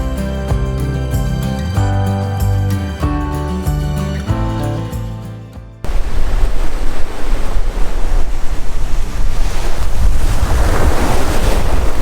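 Surf on a beach at Perdido Key, Johnson's Beach National Seashore, roaring and washing loudly in the second half with heavy wind buffeting the microphone, coming right after a stretch of music.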